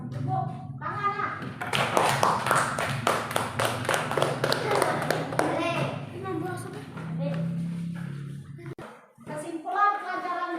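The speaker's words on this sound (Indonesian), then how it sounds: "Ya, tepuk tangan." Children in a classroom lesson clap their hands together in a quick run of sharp claps, with a teacher's and kids' voices speaking before and after.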